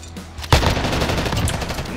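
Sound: hip-fire gunshots in the video game Warzone

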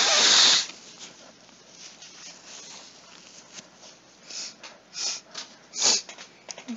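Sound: blowing nose

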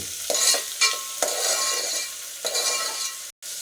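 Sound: stirring boiled chana dal into tempering in pan

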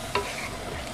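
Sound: stirring rice porridge (lugaw) in a frying pan

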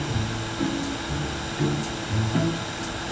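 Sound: vacuum cleaner running in the video game Roblox Brookhaven

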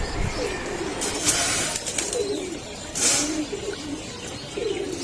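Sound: pigeons cooing on rooftop

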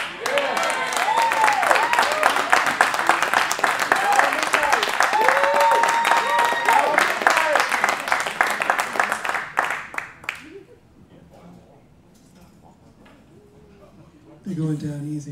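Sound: audience applause at jazz concert

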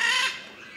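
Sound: blue-and-yellow macaw squawking

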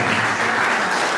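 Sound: audience applause

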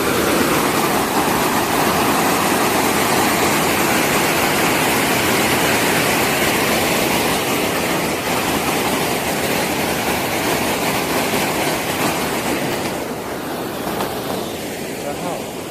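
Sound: waterfall at a dam

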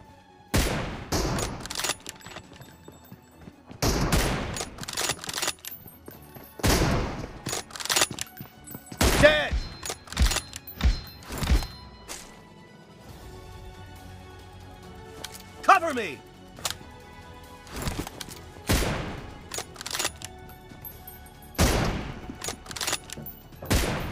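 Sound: gunfire in video game PUBG Mobile

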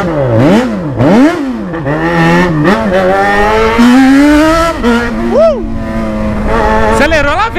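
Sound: motorcycle accelerating

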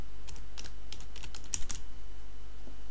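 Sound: typing on a computer keyboard

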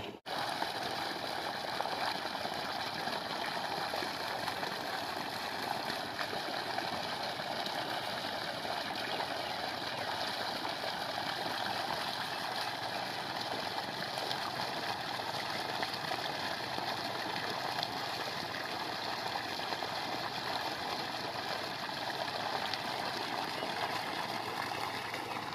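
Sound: motor running near water

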